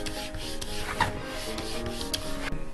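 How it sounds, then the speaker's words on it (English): Leather belt edges burnished with a scrap piece, giving a steady close rubbing rasp with a few brief louder strokes along the way. "we take a little scrap here, we just kind of burnish the edges down so they're not so sharp"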